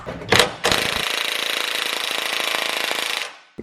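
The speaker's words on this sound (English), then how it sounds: "The good old brace the wrench against something trick helped break this loose." Wrench work on a car's sway bar end link during a coilover install: a short sharp knock, then about two and a half seconds of rapid, steady rattling impact-like chatter close by that fades out, with no talk.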